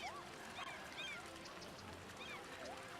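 Faint seagull calls in the city-building game Cities: Skylines, high squawking cries repeated several times over a soft ambient hum.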